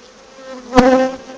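A close, loud buzzing of honeybees at an open hive swells briefly with one sharp knock in the middle, the drone rising then fading.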